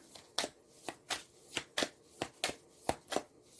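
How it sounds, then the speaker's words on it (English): Tarot cards being shuffled by hand, a series of about ten crisp riffling bursts at a fairly regular pace, close and moderately loud with quiet gaps between. "Let's see when I shuffle what's one more."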